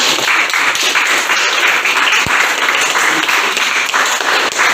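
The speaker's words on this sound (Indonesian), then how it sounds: "kasih tepuk tangan" Students applaud in a high school history classroom in Indonesia, a steady, dense burst of hand clapping that fills the whole stretch without a break.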